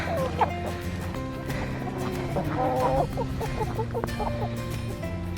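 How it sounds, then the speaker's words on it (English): Chickens clucking in a snowy farmyard, a steady close chorus of short clucks and soft calls, with a brief louder run of rapid clucking midway over a low constant background. "Time to go take care of the chickens."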